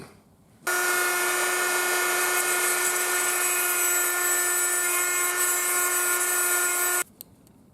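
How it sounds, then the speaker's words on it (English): A Dremel rotary tool cuts a part on a 1920s horn speaker amplifier, a steady high-pitched whine held for about six seconds, loud and close, with no talk over it. "So I'll use the Dremel tool."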